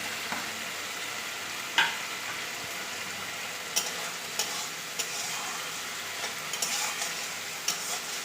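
Potatoes dropped into a pan of fish-head muri ghonto masala sizzle and fry steadily, with occasional sharp clinks and scrapes of stirring, close and alone without talk.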